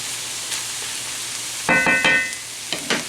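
Beef stroganoff ingredients cooking in a pan, a soft continuous sizzle broken by a few sharp scraping clinks of a utensil against the pan near the end.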